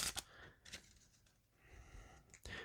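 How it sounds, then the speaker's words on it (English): A deck of linen-finish playing cards is shuffled in a quiet room, with soft riffling bursts at the start, in the middle and at the end, separated by faint rustling. "shuffle my deck up"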